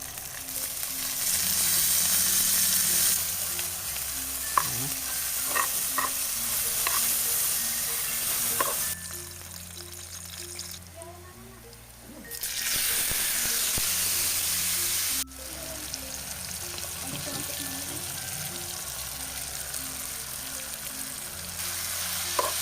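Abal-abal beetles fry in hot oil with salt, giving a loud continuous sizzle and crackle, stirred now and then, with a brief quieter dip midway before the frying noise returns.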